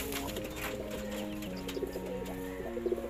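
Pigeons cooing close by in steady, overlapping low rhythmic coos, with a few brief higher chirps, from birds kept by a local pigeon keeper.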